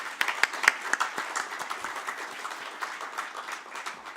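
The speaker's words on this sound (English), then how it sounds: "Can we give Dr. Anton a big round of applause?" A crowd gives a round of applause for Dr. Anton at a book launch benefiting the Singapore Cancer Society, with dense, steady clapping and a few louder individual claps near the start.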